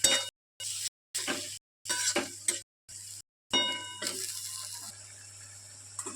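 Chopped tomato goes into a pan of frying masala with prawns and is stirred, making bursts of sizzling broken by brief silences, then a continuous sizzle with faint clinks of a utensil on the pan.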